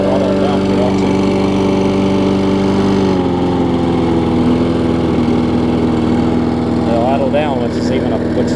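Murray Big Wheel riding mower engine running loud and close, its steady drone dropping to a lower idle pitch partway through as it is throttled down, with a voice speaking over it.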